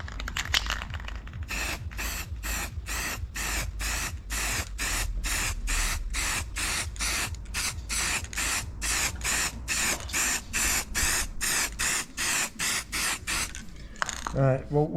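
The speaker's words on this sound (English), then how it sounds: "I'm going to spray the back of the spring seat now." Aerosol can spraying black paint onto the back of a rear spring seat from an Omega V6 estate, a long run of rapid hissing bursts close by, each short spurt separated by brief gaps.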